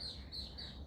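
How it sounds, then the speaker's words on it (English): Faint birds chirping outdoors, three repeated high thin calls in quick succession, distant and alone over low background hiss. "And birds are chirping"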